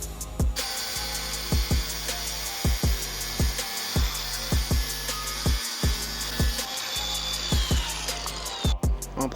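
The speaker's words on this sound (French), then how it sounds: "le mieux quand même c'est d'utiliser la disqueuse" An angle grinder shapes wooden trim in a continuous high-pitched whine, with regular loud bursts roughly every half second as the disc bites the wood, close and busy, and no voices.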